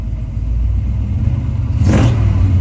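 A 1957 Chevrolet Nomad with a fuel-injected 496 engine rumbles loudly and steadily up close, then revs briefly near the end.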